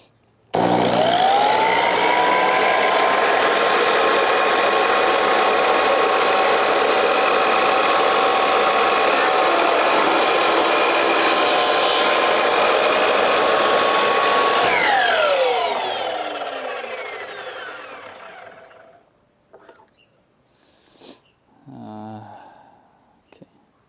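A 10-inch compound miter saw spins up and runs at a steady loud whine for about fifteen seconds, then winds down as the blade coasts to a stop, followed by a few faint handling knocks and brief talk.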